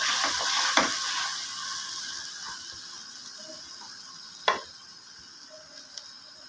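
Macaroni ingredients being mixed in a frying pan give a steady sizzle with a few sharp spoon-on-pan knocks, close and moderately loud, with no talking.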